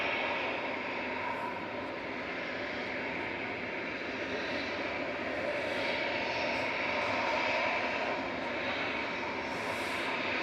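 An EasyJet Airbus A320 jet at Manchester Airport produces a fairly faint, steady distant engine hum that holds evenly throughout without clear peaks.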